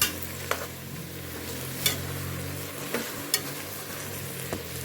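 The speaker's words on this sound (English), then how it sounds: "So we are sauteing this." Vegetables sauteing in a pot for a one-pot ital meal: a steady, soft sizzle runs throughout, broken by a few sharp clicks of a utensil stirring. No one speaks.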